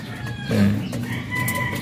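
A rooster crows once, fairly close, with a raspy drawn-out call over faint background chatter and outdoor noise.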